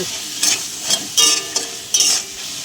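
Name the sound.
potatoes frying in a pan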